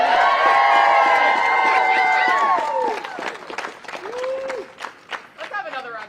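A student walkout rally crowd, applause and cheering with whoops and shouted voices loud at first, then thinning into scattered claps and calls.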